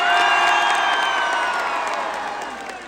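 Audience at a concert in Osaka, Japan, giving a loud burst of cheering, whoops and clapping that slowly fades over a few seconds.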